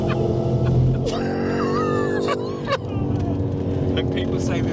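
A BMW M5 Touring lapping the Silverstone circuit, heard from inside the cabin: a loud, continuous engine drone whose pitch climbs and drops with gear changes, with excited voices now and then.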